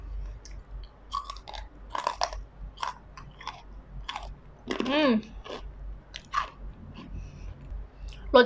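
Crunchy baked vegetable snack being bitten and chewed close up, with sharp crisp crunches in irregular bursts and a denser flurry midway, while a person talks quietly in between.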